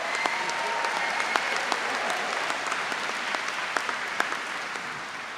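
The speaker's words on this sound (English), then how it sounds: "Quick round of applause for the Conservatoire." A graduation audience at Birmingham City University claps steadily for the Royal Birmingham Conservatoire, a dense, even wash of many hands in a large hall, with a few sharper individual claps standing out.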